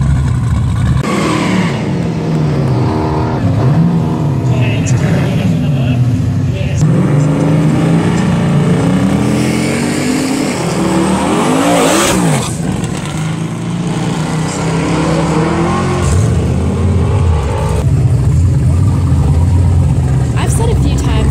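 A race car at Great Bend track during Rocky Mountain Race Week revs and accelerates hard, its engine pitch climbing and shifting through gears before settling to a loud idle, with voices talking over it.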